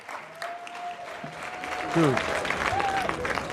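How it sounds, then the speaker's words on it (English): Applause in a Senate confirmation hearing room as the session adjourns, a steady, fairly loud patter of clapping under a brief spoken word. "We got people applauding."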